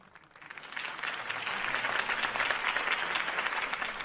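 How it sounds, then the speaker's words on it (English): Applause from a crowd in the video game Batman: The Telltale Series swells up and holds steady, a dense wash of clapping with no voices on top. "could have heard that applause"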